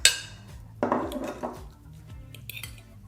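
Cooked salmon being mashed with a utensil in a bowl for air-fryer salmon, potato and sweet potato croquettes: a sharp clink at the start, then a few close scraping, clattering strokes fading into quieter scrapes, with no talking.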